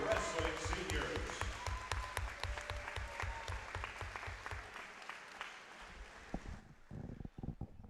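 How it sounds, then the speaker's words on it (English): A crowd applauds steadily for several seconds at a high school wrestling senior night, a dense wash of clapping that stops abruptly, leaving a few scattered thumps and knocks. "a round of applause"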